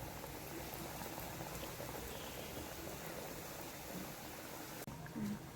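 Balushai sweets deep-fry in hot oil, giving a soft, continuous bubbling like a gentle boil, close and fairly quiet, with a small clatter near the end.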